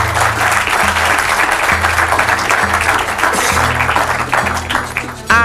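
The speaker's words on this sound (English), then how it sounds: "a round of applause for them." Loud, dense applause from a school quiz audience in Ghana, a steady wash of clapping that carries unbroken for several seconds over a low sustained musical tone.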